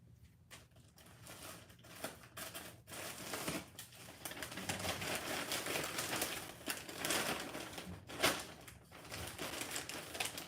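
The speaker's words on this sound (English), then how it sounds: "Look at the sticker I'm putting on the back." Crinkling and rustling as a sticker is peeled and pressed onto the back of a package being readied for mailing, close-up paper and plastic crackles with soft taps, no voice.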